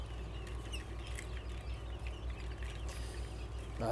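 Newly hatched coturnix quail chicks peep and chirp faintly in a brooder over a low steady hum, with a brief louder call near the end.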